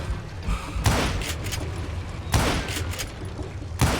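Gunfire in the Western shooter game Call of Juarez: Gunslinger, with three loud, sharp blasts spaced a second or more apart over a low rumbling game background.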